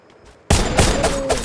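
Silence, then a sudden burst of rapid video game gunfire that keeps going in quick, loud volleys, with a faint high tone ringing beneath.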